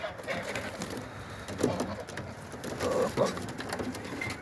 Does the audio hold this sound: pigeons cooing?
yes